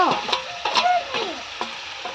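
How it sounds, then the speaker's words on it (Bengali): Potatoes dropped into a pan of spice paste being fried for a shrimp and baby potato curry, crackling and sizzling in steady bursts with scraping stirs, close by. "এবার আমি আলুগুলো দিয়ে দিচ্ছি।"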